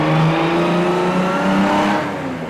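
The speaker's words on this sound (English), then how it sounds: "So driving the MG K2." A pre-war MG K2 race car drives along with a loud, steady engine drone that holds an even pitch throughout and fades slightly at the end; no one speaks.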